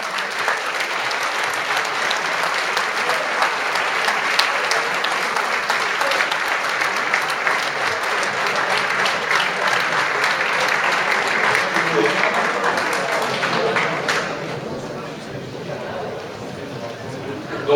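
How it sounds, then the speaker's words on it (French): Loud, dense crowd applause at a Front de Gauche political rally in Strasbourg, sustained for about fourteen seconds before dropping to a thinner patter of clapping. "On applaudit très fort."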